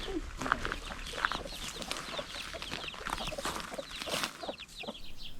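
A mother hen clucks steadily among her peeping chicks on a farm in Portugal, soft repeated clucks and chirps close by over a light rustling background, with no talking.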